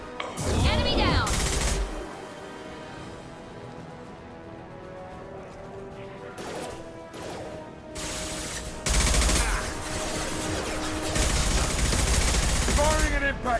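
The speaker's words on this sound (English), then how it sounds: "Firing an impact shot!" Bursts of gunfire and a heavy impact shot in the Mass Effect 2 shooter game, loud rapid volleys at the start and again in the second half, separated by a quieter stretch of music.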